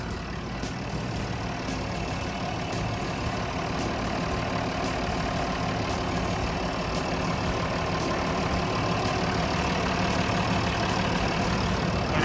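A Nissan PD6 diesel engine on a TCM 850 wheel loader idles steadily nearby, a constant low rumbling drone with no change in pace and no voices.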